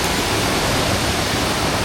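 A river flows in a steady, broad rushing wash, loud and continuous with no breaks.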